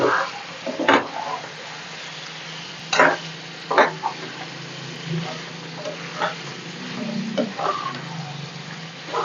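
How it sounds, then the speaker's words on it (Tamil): Tomatoes sauté in a pan for chicken gravy, a steady soft sizzle under intermittent stirring clicks and scrapes, with faint voice in the background. "பாருங்க தக்காளியெல்லாம் நல்லா வதங்கி"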